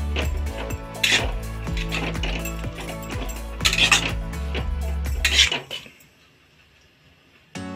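Ingredients are stirred with salt in a metal bowl for a leftover-roti pizza: rapid clattering scrapes and clinks of a spoon against the bowl, close and loud, then a pause near the end with a final clink.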